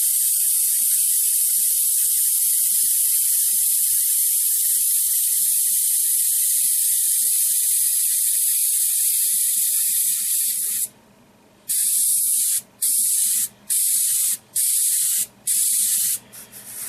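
An inexpensive airbrush hisses steadily while spraying thinned Vallejo Model Color paint, then shifts to a series of short, evenly spaced bursts of spray separated by brief pauses.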